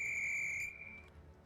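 A sustained whistle from a video game rings loudly for under a second, then fades, with faint noise below it.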